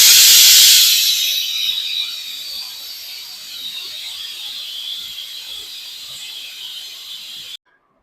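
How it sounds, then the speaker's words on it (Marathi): A pressure cooker holding mushroom masala vents its remaining steam. A loud, sharp hiss bursts out and then fades to a steadier, softer rush, which cuts off abruptly near the end. "पूर्ण आपण हवा त्यातली काढून घेऊ."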